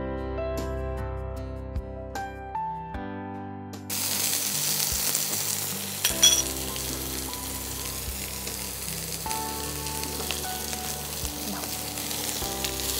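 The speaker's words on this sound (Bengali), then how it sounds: "পেঁয়াজটাকে একটু ব্রাউন করে ভাজতে" Onion frying in hot oil until brown, a steady close sizzle that grows louder and denser partway through, with occasional stirring noises and soft background music but no talk.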